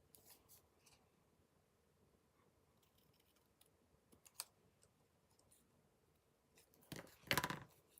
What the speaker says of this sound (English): I just want to make sure I don't snip into the actual tag there